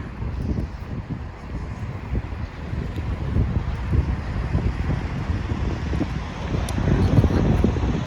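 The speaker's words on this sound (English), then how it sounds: "We're gonna turn off and get out of some of this wind." Wind gusts across a downtown Winnipeg street, a steady low roar buffeting the microphone that swells a little louder toward the end, with no talking.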